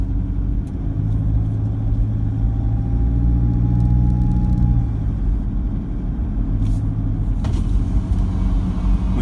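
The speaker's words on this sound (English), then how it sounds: "it's a diesel, standard sort of rattle" A diesel car engine with new injectors and a remap, idling with a steady low clattering rattle and heavy rumble, heard from inside the car.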